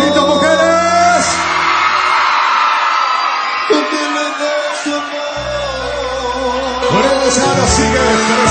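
Women in a live concert crowd screaming and whooping during a 2006 cumbia show, loud sustained cheering over band music throughout.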